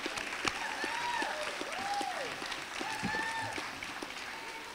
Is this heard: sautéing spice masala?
no